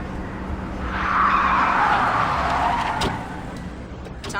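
A car arrives in Splinter Cell Conviction: a swelling engine roar with tyre noise rises, peaks for a couple of seconds and fades, with a sharp click near the end and no voices.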